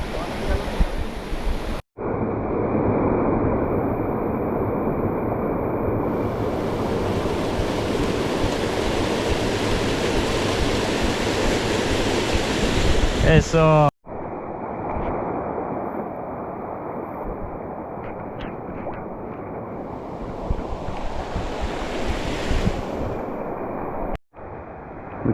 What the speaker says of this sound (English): We keep having to cross the creek,